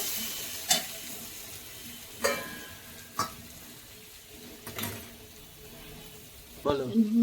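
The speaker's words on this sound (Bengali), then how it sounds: "এইবার আমি সব আলু আর বেগুনটা দিয়ে দেব।" Potatoes and eggplant fry in a pan while a spoon stirs them now and then, producing a low sizzle broken by several sharp clanks of the utensil against the pan.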